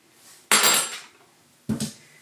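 A spoon stirring a warm milk mixture with salt in a bowl gives two distinct clinks against the side about a second apart, close and otherwise quiet.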